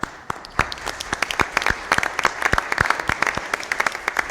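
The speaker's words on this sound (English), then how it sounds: "How about a round of applause?" A modest round of applause, individual claps distinct and irregular, fairly close, building into a steady patter.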